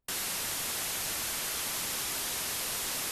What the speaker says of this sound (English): This output generates white noise that sounds like this.